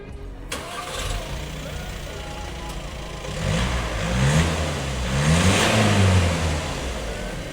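A Volkswagen Golf GTD diesel engine cranks and starts, then settles and is revved several times in rising and falling sweeps, heard up close and loud.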